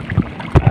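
A small boat with no engine is paddled by hand at sea while fishing, two quick water strokes splashing close by in under a second.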